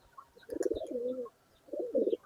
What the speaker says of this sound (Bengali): দেখেন কবুতরের আদারের জন্য কি শুরু করে দিছে